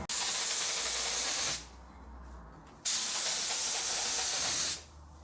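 Two long bursts of spray paint hiss loudly and close, the can spitting, separated by a short pause, with only faint background between them.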